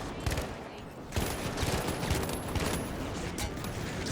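Rapid gunfire in The Finals, close and loud bursts of automatic shots crackling almost without pause, with a brief lull near the start.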